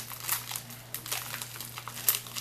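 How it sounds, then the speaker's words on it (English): Plastic packaging on a planner mystery bag crinkles and rustles in quick, irregular bursts close by as it is handled and cut with scissors. "Cut this open"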